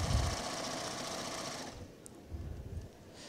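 A Babylock coverstitch sewing machine runs steadily with three needles, stitching and covering a hem, its fast mechanical whir continuous for over a second and a half before dropping to a quieter hum with a short burst of motor noise.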